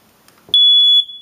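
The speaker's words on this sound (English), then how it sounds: "Here, it's a smoke detector. It's a regular smoke detector." A regular household smoke detector sounds a single loud, piercing electronic beep when its test button is pressed. The steady tone holds for about half a second in a quiet room, then cuts off abruptly.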